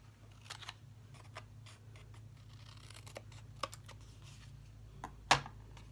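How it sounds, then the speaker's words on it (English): Scissors snip through paper to cut off the sides for an envelope flip board, a few faint, scattered crisp cuts over a low steady hum, close by with no talking. "cut off your sides"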